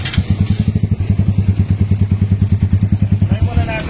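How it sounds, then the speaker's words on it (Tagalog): Keeway 152 motorcycle engine fitted with a version 2 bullet pipe exhaust, running close up with a loud, steady pulsing putter of rapid, even exhaust beats that stop near the end. "Ngayon, ang ating motor, Keyway 152 and version 2 na bullet pipe."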